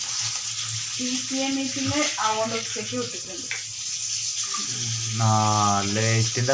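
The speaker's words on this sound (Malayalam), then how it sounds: "കുളിയൊക്കെ കഴിഞ്ഞ് വന്ന് ഞാൻ മീൻ വറക്കുകയാണ് കേട്ടോ." Fish frying in a pan gives a constant sizzle beneath a voice speaking close by, with a low steady hum running throughout.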